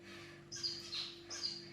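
Small birds chirp in a few quick, bright bursts, fairly faint against a quiet background with a steady low hum.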